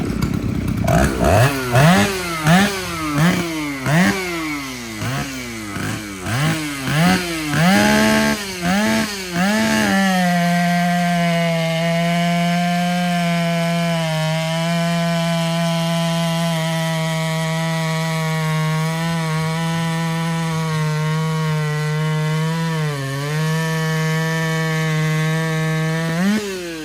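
A vintage chainsaw cuts through wood in a timed race at a sawing festival. The engine revs in loud rising bursts, then holds a steady, strained drone through the cut.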